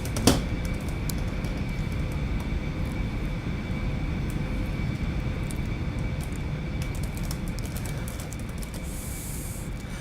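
A small general aviation airplane in the X-Plane simulator taxis toward the runway, its engine a steady, broadband droning hiss that holds at an even level throughout with a faint tonal whine on top, no talking.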